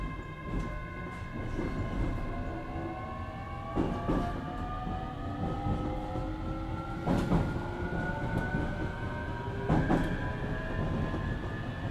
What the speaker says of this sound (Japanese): 一番乗り場から普通列車荒尾行きが発車します。